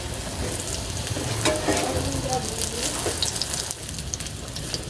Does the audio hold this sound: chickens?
no